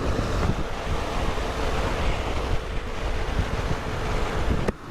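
Strong wind roars steadily past a motorcycle rider in Big Bend, a loud continuous buffeting rush that cuts off abruptly near the end.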